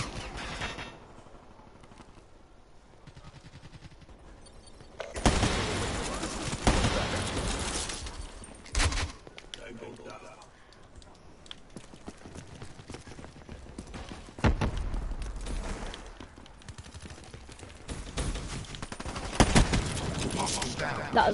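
Gunfire in Call of Duty Black Ops 3, with bursts of automatic fire and scattered shots at varying distances, some loud and close, others fainter, coming and going across the stretch.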